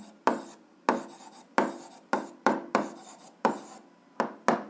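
A pen or pencil writing out an algebra equation on paper, heard close up as a rhythmic series of about nine short scratchy strokes, each starting sharply and fading, with no talking.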